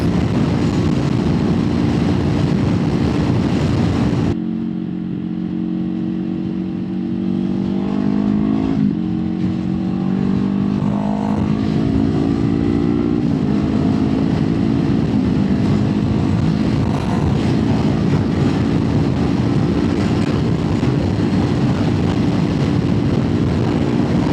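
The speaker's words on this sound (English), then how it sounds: "that truck is just booking it" A truck speeds past on the road while a Kawasaki Eliminator 450 motorcycle rides alongside, with engine drone and rising, shifting tones as the vehicles pass close and loud over steady wind rush.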